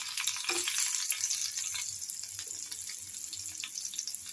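Chopped garlic, ginger and green chilli fry for chilli paneer in a pan, giving a soft, continuous sizzle broken by light scraping and stirring strokes, fairly quiet and close, with no one talking.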